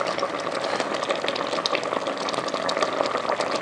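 Sugar syrup for raw mango murabba boils steadily in a pot on a stove, a dense continuous bubbling and hissing that stays even and fairly close throughout, with no voices over it.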